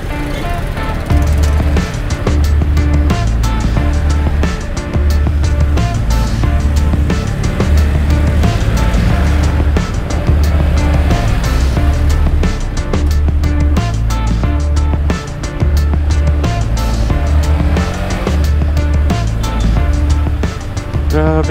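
Steady road traffic rumbles close by, with a constant low engine drone and pulsing hum heard from a motorcycle rider in Philippine city congestion, a Royal Enfield Interceptor 650 in the mix; no voices.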